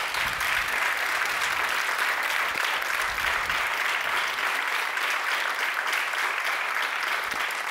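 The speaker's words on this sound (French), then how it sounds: "Vous allez entendre un tonnerre d'applaudissements dans la salle" Audience applause filling a theatre hall, a dense, steady roar of many hands clapping, loud and sustained for the whole stretch.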